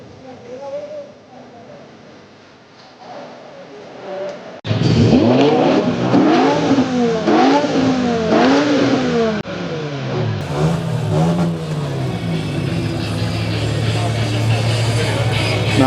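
A 2003–04 BMW M6 with a 5-litre V10 engine revving in a shed setting: quieter idle first, then loud, sharp repeated throttle blips rising and falling, settling into a steady high idle toward the end.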